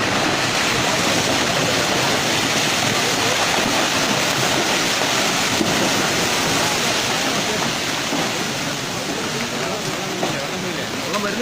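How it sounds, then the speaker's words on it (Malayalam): Floodwater rushing during the 2018 Kerala floods, a loud, continuous roaring wash close by that holds steady throughout, with people talking over it. "വെള്ളം വരുന്നേ ഉള്ളൂ."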